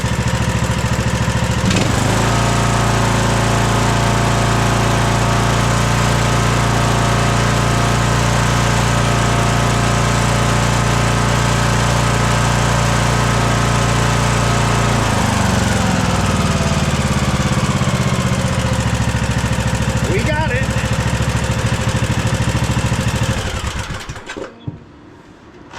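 A $150 tractor engine with issues idling close by, a loud steady rumble with a ticking valve train that shifts pitch slightly partway through before cutting off near the end.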